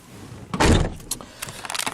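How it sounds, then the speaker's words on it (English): Car door with a custom-built speaker pod door panel swings shut in one solid thud, close and loud, followed by a few light rattles and clicks. "let's see how it does when we shut the door"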